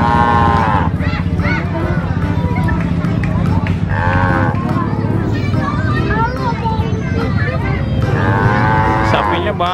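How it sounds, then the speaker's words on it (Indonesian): Many cattle awaiting the Eid al-Adha sacrifice, among them white cows, moo repeatedly with long, loud calls close by, one after another, over constant crowd chatter and people talking. "Ini ada sapinya warna putih kayak sapi Australia nih"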